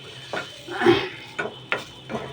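Pan clatter from dry roasting in a wok on a gas stove: a few short, separate scraping knocks and clanks, close and moderately loud, spaced irregularly.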